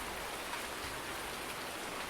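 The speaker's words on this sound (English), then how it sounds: "the rain kind of comes through a little bit here" Steady rain pattering inside a brick shed in Farming Simulator 19, a dense even hiss of drops coming through the roof, continuous and fairly soft with no voices.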